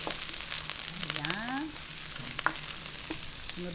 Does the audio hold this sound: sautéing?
yes